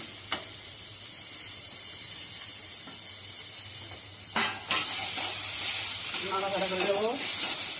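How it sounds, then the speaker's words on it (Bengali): Ridge gourd paste goes into a pan of onions fried until reddish-brown, with a low sizzle that swells into louder frying and stirring partway through, plus scraping and a short burst of voice near the end. "এবার আমি ঝিঙে বাটাটা দিয়ে দেবো।"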